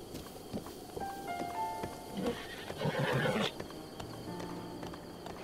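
In the video game Zelda: Breath of the Wild, a horse neighs with a clear, wavering whinny over steady clip-clop hoofbeats. The sounds are moderately quiet, with game ambience behind them.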